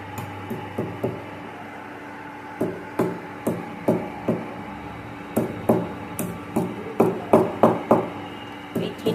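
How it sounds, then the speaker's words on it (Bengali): Three cloves being crushed for tea, a series of sharp knocking pounds in uneven bursts, close and moderately loud, with no talk. "এই 3টে লবঙ্গকে আমি জাস্ট একটু থেতো করে দেবো।"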